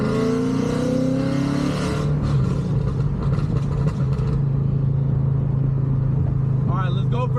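A 5.0 Mustang engine with aftermarket exhaust drones low and steady while driving, revving up with rising pitch near the start, with wind buffeting and a few faint squeaks toward the end.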